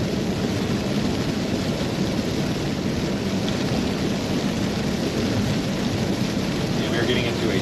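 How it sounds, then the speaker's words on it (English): Heavy downpour during a storm: a dense, steady hiss of rain that fills the whole stretch at constant loudness, with a low rumbling undertone, and no clear talk over it. "And we're getting into a downpour here."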